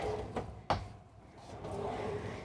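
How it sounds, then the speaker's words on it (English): A deep storage drawer in the kitchen of a 2024 Newmar Mountain Aire 3823 RV slides with a couple of short close thumps and a soft sliding rumble, heard close up. "Over here, we've got some storage drawers, and this one's really quite deep."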